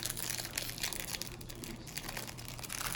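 LOL Surprise Lils doll packaging crinkles and crumples as it is pulled open by hand, a busy, close plastic rustle that continues throughout without speech.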